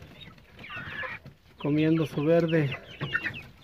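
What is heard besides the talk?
chicks clucking while eating corn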